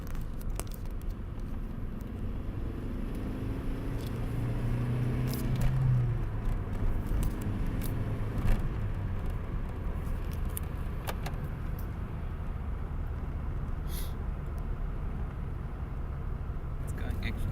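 A car's engine pulls steadily uphill in third gear with a little turbo boost building, a sustained low rumble that swells briefly and stays fairly near and constant throughout.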